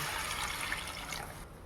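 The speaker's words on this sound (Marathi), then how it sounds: "आपण पाणी ओतूया. हे गरम केलेलं आहे मी पाणी." Steady broadband rush of hot water being poured into a pan, continuous and fairly close, tapering off near the end.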